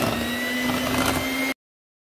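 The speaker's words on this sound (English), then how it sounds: "mixing it for 2 minutes with an electric mixer" Electric mixer beating pudding mix into milk, a steady close whirring motor hum lasting about a second and a half before cutting off abruptly.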